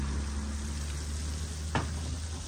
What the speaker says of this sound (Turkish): Kofte'mizi kızartıyoruz duamla.